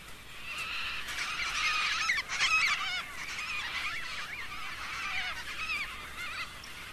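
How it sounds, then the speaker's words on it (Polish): Sulphur-crested cockatoos raid a melon crop, a dense flock giving continuous harsh squawks and screeches, loud and close, with overlapping calls throughout and no talk. "Rzadziej występujące kakadu żółto-czube zasmakowały ostatnio w melonach."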